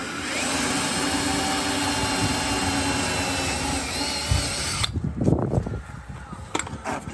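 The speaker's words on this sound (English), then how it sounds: "Drilling out about 100 rivets" A power drill runs steadily, drilling out rivets on a rusted school bus body panel, a continuous loud whine for several seconds that then cuts off into scattered clanks and handling noises close by.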